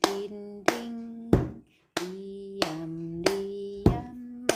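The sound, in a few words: clapping hands and hitting a table as song accompaniment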